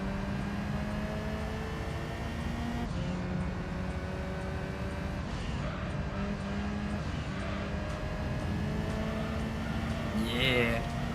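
A steady, droning car engine hum from the racing game Gran Turismo 3 holds throughout, rising slightly near the end, with a voice talking over it at times.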